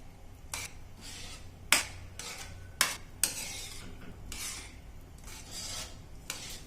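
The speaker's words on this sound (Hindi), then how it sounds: "आप देख सकते हैं हमारा जो दही है वो हम मिक्स कर रहे हैं अच्छे से" Yogurt is stirred in a pan for dahi fry, with soft repeated rubbing and scraping strokes of a spoon against the pan and a few sharper metallic taps, fairly quiet and close.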